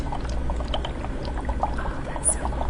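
Dry ice sits in a cup of zombie juice drink, giving off soft irregular bubbling and fizzing pops up close, with faint clinks and handling noises mixed in.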